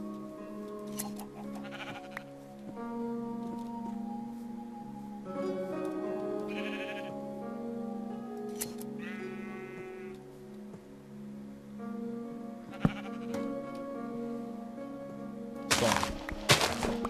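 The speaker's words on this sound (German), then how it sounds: "Schafe." Several Minecraft sheep bleat in short, separate calls over a quiet, droning musical backdrop, with a couple of soft thuds near the end.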